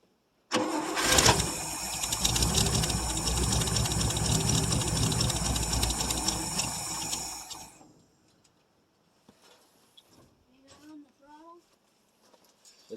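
A 1959 International B120 4x4 truck engine cold-starting after years idle, loud cranking catching into a rough run for several seconds then cutting off abruptly, followed by quiet with light clatter and voices talking.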